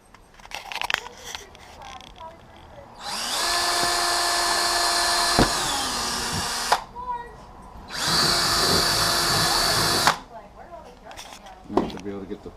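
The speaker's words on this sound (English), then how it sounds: "we're just gonna go ahead and drill this out" A power drill bores into the floorboard of a RAM 1500 in two loud sustained bursts of about three and two seconds, the motor whining steadily, with handling clatter and brief knocks before, between and after.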